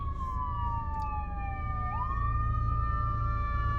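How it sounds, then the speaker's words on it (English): An ambulance siren wails at moderate distance, a steady high tone that dips and sweeps back up midway as it passes, with no talk over it. "that's an ambulance. Yep, there it goes."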